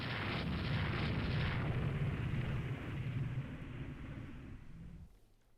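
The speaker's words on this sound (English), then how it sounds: "We've hit something with the torpedo." A torpedo strikes a warship in the naval game Rule the Waves 2, a loud sustained explosive rumble that slowly fades out over several seconds, heard alone.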